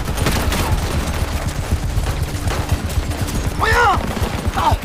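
Rapid machine gun fire rattles in dense, continuous bursts in a Chinese wartime spy drama, with voices talking over the shooting.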